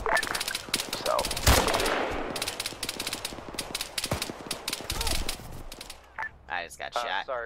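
Rapid automatic gunfire rattles through an Arma 3 battle in long continuous bursts with a few louder nearby shots, while players talk over radio chatter toward the end.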